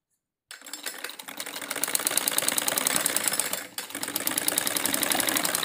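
An electric sewing machine runs a top stitch along the belt of a school uniform salwar, its rapid needle chatter steady and close with a brief pause midway before resuming.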